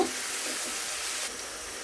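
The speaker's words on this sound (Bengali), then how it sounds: "এই বাটা পেঁয়াজটুকু দিয়ে দিলাম ভালো করে একটু নেড়ে দিব" Onion paste fries in a pan and is stirred, a steady close sizzle that dips slightly toward the end, with no talk.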